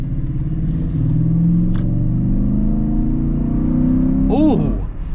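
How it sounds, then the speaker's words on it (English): Modified Toyota Land Cruiser V8 engine rumbling steadily up close, swelling into a brief rev near the end, with a voice talking over it. "that V8 sounds great"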